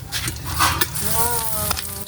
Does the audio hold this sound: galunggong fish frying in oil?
yes